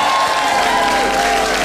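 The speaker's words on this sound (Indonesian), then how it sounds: "Tepuk tangan dulu dong untuk Pak Jarwo." Studio audience applause at an Indonesian comedy talk show, dense and steady clapping with some crowd noise, loud and sustained throughout with no talk over it.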